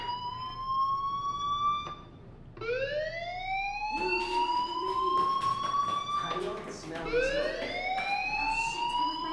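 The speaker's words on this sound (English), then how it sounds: "do you hear that fire alarm?" A fire alarm in the video game Life Is Strange wails in repeated rising sweeps, each climbing in pitch, loud and close throughout.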